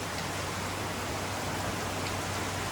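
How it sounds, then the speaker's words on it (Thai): Steady rain falling outdoors, a dense, even hiss of drops that continues without pause, with a faint low hum beneath and no talking. "ตอนนี้พี่น้องบรรยากาศฝนตกพอดีด้วย"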